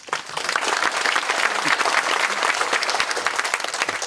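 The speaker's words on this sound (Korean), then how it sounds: "장지삼 원장님을 박수로 모시겠습니다" An audience claps to welcome a research institute director to the podium at an industry strategy lecture, loud sustained applause with a dense crackle throughout.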